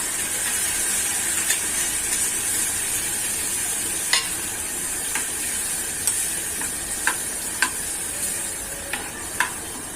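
Chillies and curd sizzle in hot tempering oil in a pan, a steady hiss with occasional sharp clicks of stirring spoon against the vessel, no talk.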